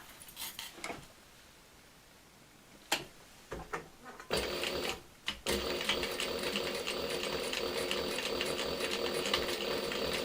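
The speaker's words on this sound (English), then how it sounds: "I'm just going to sew it a little bit further out on this edge" Sewing machine stitching along the edge of a crossbody bag, a few short starts and stops of the needle, then a steady fast whirring run that continues close and clear.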